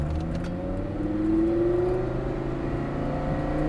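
A Lamborghini Gallardo supercar is driven on a track day, its engine note climbing smoothly under acceleration from inside the cabin, loud and steady without pause.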